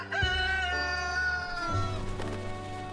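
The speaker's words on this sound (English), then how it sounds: "A rooster crows loudly in the festive atmosphere." A rooster crows in the video game Reverse 1999, a loud, drawn-out call with strong harmonics that dominates a festive game scene with music underneath.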